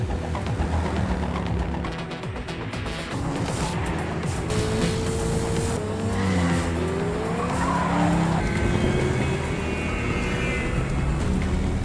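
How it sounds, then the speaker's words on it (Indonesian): A dramatized car chase on a road plays out with revving engines and drawn-out tire squeals and skids, rising and sliding in pitch over a dense, continuous mix of traffic noise. "Mereka pun terlibat saling kejar di jalan raya."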